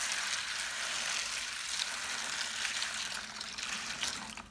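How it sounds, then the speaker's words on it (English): Cool water pours into a large bowl of black beans, a continuous splashing gush that stays fairly close and steady for several seconds before tapering off slightly, with no voices. "Add cool water until fully submerged."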